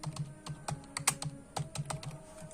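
Keys clack on a computer keyboard as an Aadhaar number is entered into an online scholarship registration form, a quick uneven run of close, crisp taps with no talking.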